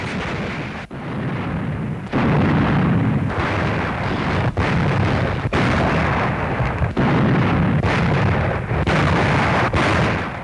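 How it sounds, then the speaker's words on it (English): Russian artillery firing on German positions at Stalingrad in 1942: a rapid series of heavy, booming blasts with rolling rumble, loud and continuous over about ten seconds, with no talking. "Russian artillery blasted the German positions and Russian airmen bombed them"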